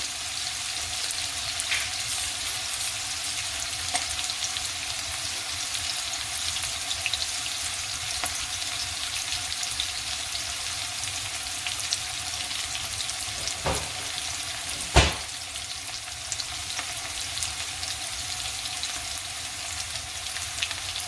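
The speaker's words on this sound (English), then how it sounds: "it's taking a minute for this onions to cook down" Onions cooking down with spices in a pan give a steady, fairly loud sizzle and crackle throughout, broken by a couple of brief knocks near the end, with no talking.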